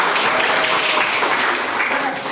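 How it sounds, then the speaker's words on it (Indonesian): Applause for group one at a group discussion presentation, a dense burst of many hands clapping together, loud and close, lasting a couple of seconds with no clear talk over it. "Semangat aplaus untuk kelompok satu."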